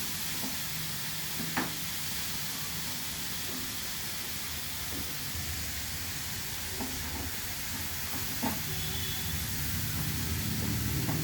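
Papaya sizzles and fries in a pan, a steady close hiss of hot oil running throughout with a few faint scrapes and clicks.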